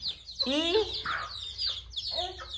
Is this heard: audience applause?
no